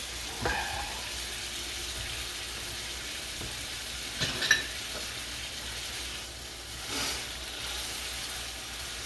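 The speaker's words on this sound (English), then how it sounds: "It's sizzling. Almost done." Quiet, steady sizzling of a steak in a hot pan, with a few faint clinks and scrapes of utensils against it.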